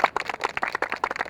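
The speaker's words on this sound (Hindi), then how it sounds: "अलीजे के लिए तालियां होनी चाहिए" A few people clap briskly at a reality competition show, sharp, distinct hand slaps in a quick irregular rhythm, fairly close and not very loud.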